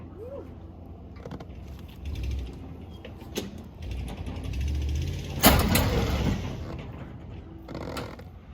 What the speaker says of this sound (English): Wheel wiggled a little bit. Oh, tire's turning now.